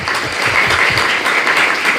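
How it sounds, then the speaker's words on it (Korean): Dense audience clapping at a Korean policy forum on school violence, thanking guest speakers, a steady burst of applause that fills the whole short moment. "축사를 통해서 여러 귀한 말씀을 해주신 귀빈 여러분들께 다시 한번 감사의 박수를 부탁드립니다"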